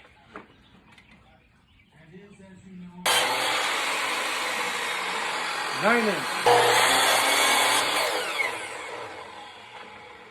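Power saw cutting a wooden board into 9-inch pieces for a sand casting flask, a loud sustained whine that starts abruptly after a few quiet seconds and runs steadily to the end, with a brief pitch sweep midway.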